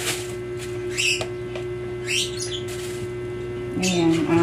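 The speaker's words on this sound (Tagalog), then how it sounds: "Ayan, love birds." Pet lovebirds kept indoors chirp in short, bright bursts scattered over a steady electrical hum, fairly close, with a person talking faintly in the background.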